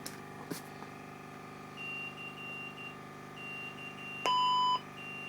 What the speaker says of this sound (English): Not really sure what the beeping is.